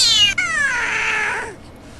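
A single long, loud cat meow in a horror short film, close and drawn out, falling in pitch and fading after about a second and a half, with no talk over it.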